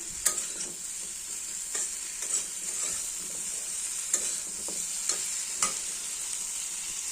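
Spice paste for a fish curry sautéing in a pan over raised heat, a soft steady sizzle broken by sharp clicks and scrapes of a spatula at irregular intervals, close by and fairly quiet.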